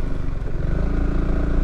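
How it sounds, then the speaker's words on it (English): Honda Forza 350 GT scooter engine under throttle with the rear brake held, a close, loud, steady low rumbling drone with rhythmic pulsing throughout the short burst. "So I'm going to hold the rear brake and apply some throttle."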